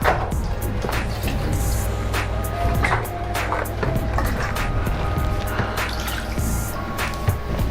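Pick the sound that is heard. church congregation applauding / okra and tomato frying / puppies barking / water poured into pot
water poured into pot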